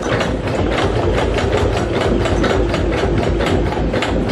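A sewing machine stitches zigzag stitches on a fabric face mask, a steady, fast, rhythmic mechanical whirr and clatter, close and continuous with no talking.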